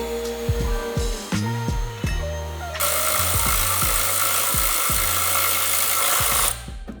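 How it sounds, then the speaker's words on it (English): A power polisher buffs a car body part with compound during a Volkswagen MK7 GTI build, its motor whining up in repeated short bursts before settling into a steady loud grinding whir that cuts off near the end. "just hit it with compound real quick."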